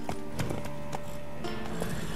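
Horses in The Witcher 3: Wild Hunt, a few close neighs and whinnies over steady hoof clip-clop and game ambience, with no talk.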